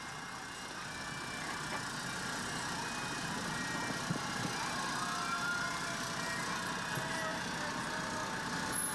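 John Deere tractor pulling a float in a Santa Claus parade, a low, steady engine drone with faint street ambience and crowd murmur beneath, growing slightly louder as it passes.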